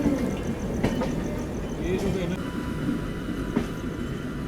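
A passenger train pulls out of Pandit Deen Dayal Upadhyaya Junction, a steady low rumble of rolling coaches with faint clatter and a few sharp metallic knocks, under station ambience and distant voices.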